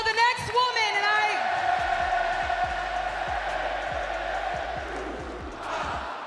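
A boisterous wrestling arena crowd sings along and cheers loudly, a dense roar with chanting voices and rhythmic stomps or claps.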